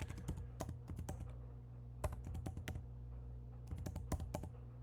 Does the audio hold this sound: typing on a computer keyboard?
yes